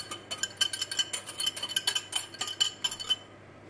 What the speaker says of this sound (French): On commence à battre les œufs